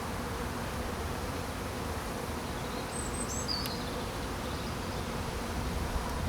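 Steady dense buzzing of many honeybees during a beehive inspection in March, continuous and close, with no voices.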